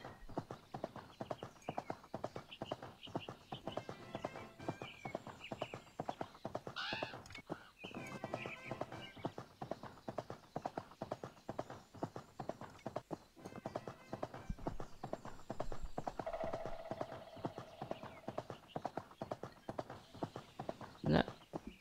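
Rapid, steady clip-clop of horse hooves galloping in the Horse World 3D video game, continuous and fairly loud throughout with brief whinnies and faint game sounds, no talking.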